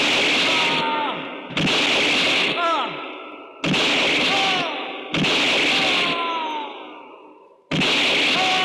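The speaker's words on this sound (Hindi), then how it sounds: "नकली गोलियों से कितना अच्छा इफेक्ट" Gunshots fired with fake bullets during a staged shooting rehearsal in a busy market, four or five loud sharp blasts spaced about two seconds apart, each trailing off in a long echoing decay.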